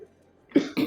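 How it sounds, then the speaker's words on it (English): A person coughs twice in quick succession, close and fairly loud, after a moment of near silence. "my cough is getting progressively worse as the session goes on"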